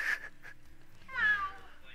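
A person imitating a cat's meow at a high school match, one short meow-like call at the start and a longer drawn-out one near the end, both fairly faint over a quiet background.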